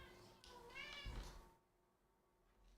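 A cat lets out a drawn-out, wavering meow close by, fairly loud against a quiet room, then falls silent.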